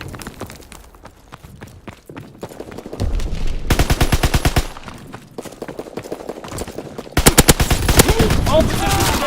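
Bursts of automatic machine gun fire in a video game battle, loud rapid volleys starting and stopping over several seconds, with a voice speaking faintly in the mix.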